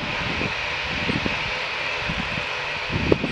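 An Aer Lingus airliner at Manchester Airport gives off a steady, loud jet roar and whine throughout, with low rumbling underneath and a brief bump near the end.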